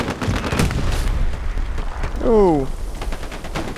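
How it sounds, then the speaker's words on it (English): A tank shot and surrounding gunfire in the Hell Let Loose battlefield, loud booming blasts and crackling shots with a whistling tone midway, and a man's brief exclamation over it. "tank shot at me"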